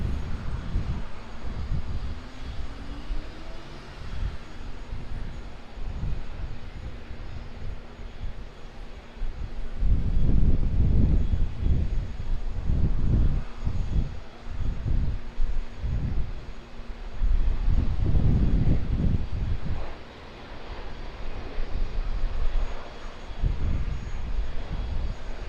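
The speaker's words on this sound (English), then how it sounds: "here's our QANTAS Boeing 737-800" A QANTAS Boeing 737-800 jet airliner comes in to land at Auckland Airport, its engine roar swelling in loud broadband surges with gusty wind buffeting over a steady background hum.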